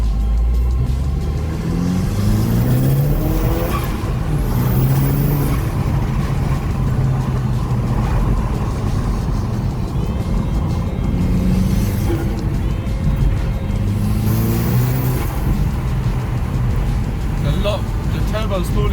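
A turbocharged car fitted with a Trackslag 3.5-inch downpipe accelerates hard, its loud engine note climbing in repeated rising sweeps through the gears while the turbo spools, heard from inside with voices talking over it.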